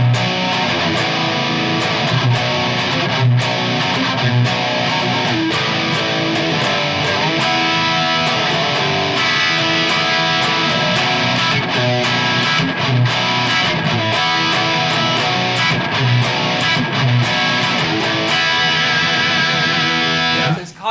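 A distorted electric guitar strums a chunky high-gain rhythm part through an ENGL amp, dense chords ringing steadily and loudly without a break.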